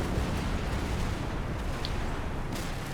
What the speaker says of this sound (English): That's just rocket or tank fire.